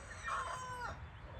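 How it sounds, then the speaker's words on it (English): A hen crows nearby in a garden, a single short, strained crowing call rising and falling over about a second, fairly faint against quiet outdoor background. "Was that a hen crow too?"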